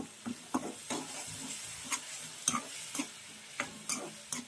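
Onion, chili and asafoetida sizzle in a frying pan with a soft hiss, punctuated by regular sharp clinks and scrapes of stirring.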